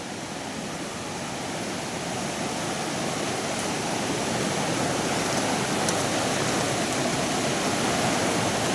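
Steady, loud rush of a river in Munnar, a continuous broadband roar that stays even throughout with no voices.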